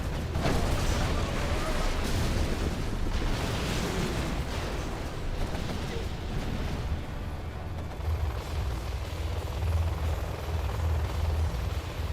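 Helix helicopters attack in a chaotic real-time strategy match, a continuous rotor roar mixed with rumbling explosions and artillery fire, while a commentator talks over the din.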